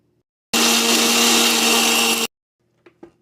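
A mixie blender grinds pink salt and curd into a drink, roaring loudly and steadily for about two seconds before cutting off abruptly, followed by a couple of faint clicks.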